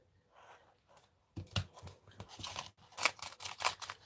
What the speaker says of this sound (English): Plastic's hanging over the edge. Needs trimming.